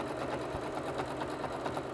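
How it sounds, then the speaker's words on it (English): A sewing machine stitches through several thick layers of fabric on a Christmas panel project, a steady rapid mechanical chatter with an even rhythm, close and continuous. "You might want to use your walking foot on your sewing machine if you happen to have one for this"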